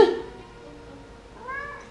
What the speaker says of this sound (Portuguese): Olha os gatos aqui, ó. Aqui, ó, com o gato agitado.